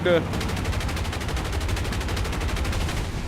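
Rapid 50-caliber machine gun fire in the War Thunder video game, a steady, evenly pulsed stream of shots running nearly the whole time at a consistent level, with a brief burst of other sound at the very start.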